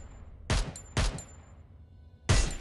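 Three loud, separate shots fired through a scope in a video game, each a sharp close blast with a short decaying tail, spaced irregularly.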